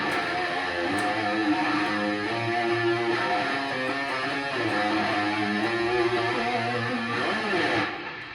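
Electric guitar plays a riff with single-finger notes instead of power chords, a sustained tone with a dense, fairly even texture that keeps ringing for about eight seconds and then fades at the end, with no talking.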